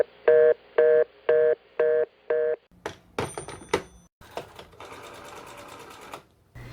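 Telephone ringing on an international call, five evenly spaced electronic ring pulses close by, followed by clicks, line noise and a steady connection hiss.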